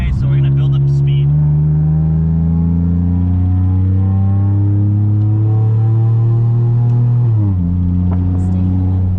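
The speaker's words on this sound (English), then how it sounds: "right now we're in second, and we're about to get on the freeway, so we're gonna build up speed" A 3G Eclipse with an aftermarket exhaust accelerates in second gear toward a freeway, its loud droning engine note climbing steadily in pitch, then dropping sharply at a shift near the end.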